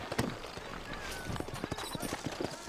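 Horse hooves clip-clop at a walking pace in Red Dead Redemption's New Austin, a steady run of close, crisp knocks on hard ground under a low background murmur.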